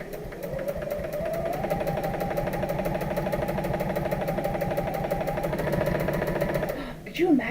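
A sewing machine stitches fabric with a fast, even mechanical chatter that runs steadily for several seconds before stopping, as a voice speaks over it.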